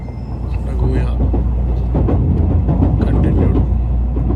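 A Nozomi Shinkansen bullet train on the Tokyo–Nagoya line passes close by with a loud, steady rushing roar and rolling rumble that swells and holds, while people talk quietly underneath.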